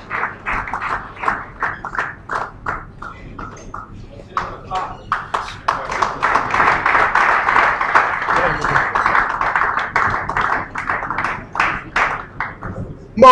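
Audience applause at a live-streamed gathering: sustained, dense clapping that swells in the middle and keeps going for several seconds, with scattered individual claps standing out at the start and end.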